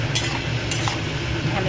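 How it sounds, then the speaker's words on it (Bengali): Turmeric and chili powder are stirred into potatoes and peas in a pan, a steady scraping stir over a low sizzle of oil with a few brief clinks of the spoon. "দিয়ে এটাকে নাড়বো"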